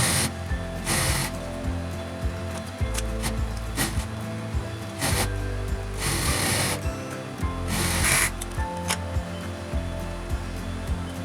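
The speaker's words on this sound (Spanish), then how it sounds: "lo vamos a cerrar pasando un pespunte directamente con la overlock o bien una puntada elástica" An overlock sewing machine runs in bursts, stitching the seam of a women's sweatshirt, its fast mechanical whir starting and stopping several times at close range with no voices.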